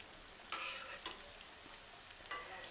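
Chicken nuggets fry in hot oil in a pan at home, a steady crackling sizzle broken by a few louder bursts of spatter and stirring, fairly close and with no talk.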